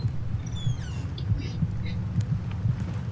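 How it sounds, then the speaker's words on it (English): A heartbeat thuds under the floor in The Tell-Tale Heart video game, a low, muffled, regular double pulse repeating steadily beneath faint ambient game sounds. "How can they not hear my heart beating under the floor?"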